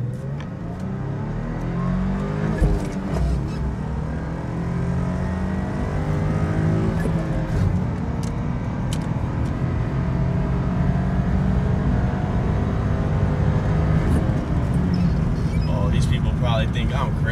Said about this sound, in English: I'm inside the 2010 Lexus IS250. We're going to do a brief acceleration.